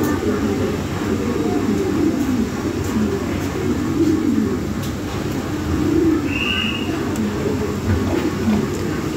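Lahori pigeons coo in a loft, a steady overlapping murmur of low throaty calls running throughout with a faint constant background hum.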